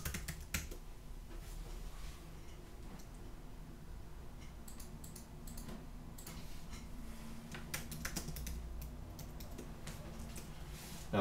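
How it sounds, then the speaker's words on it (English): Faint, quick keystrokes patter on a computer keyboard in short irregular bursts, quiet and close, with no talking over them. "So I'm just gonna type things in here."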